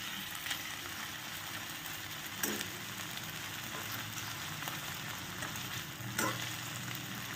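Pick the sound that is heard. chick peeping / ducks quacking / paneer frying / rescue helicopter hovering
paneer frying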